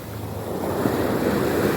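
Sea waves wash in as a steady, close rushing surf with a broad hiss and low rumble, swelling slightly over the short stretch, mixed with wind noise.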